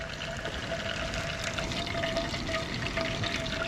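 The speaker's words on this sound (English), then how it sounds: "The oil is sizzling a little bit, but there's still a little bit of water in there" Hot oil in a camp pan with some water left in it sizzles and hisses steadily before fish goes in, a continuous close, fairly quiet crackling wash with no talking.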